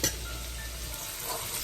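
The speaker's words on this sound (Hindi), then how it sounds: "अब इसके अंदर मैं अदरक लहसुन जो मैंने चॉप किया था उसको शामिल कर रही हूँ और इसको अब मैं फ्राई करूंगी।" Chopped ginger and garlic sizzle briskly in hot oil in a pan for a daal tarka, a short, close, steady frying hiss with a faint clink at the start.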